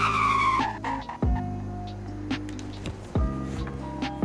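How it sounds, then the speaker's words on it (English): A Toyota Supra in the Roblox game Greenville launches hard from a standstill, its engine revving up through several gear shifts with brief tire squeal, loud and close, with no talking. "here's the 0 to 60 test on the Supra"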